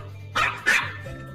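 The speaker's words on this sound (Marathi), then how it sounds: "कुत्रा भुंकतोय." A dog gives two sharp, close barks in quick succession over a quiet background, with no voices.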